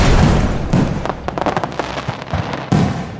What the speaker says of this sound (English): We need explosions.